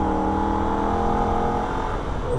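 Holden VF Ute lapping the Nürburgring, its engine droning steadily at high revs with strong harmonic whine, loud and close throughout with no break.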